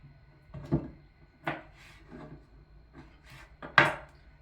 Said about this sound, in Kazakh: Тез кебу үшін ортасынан кесіп қойып жатырмын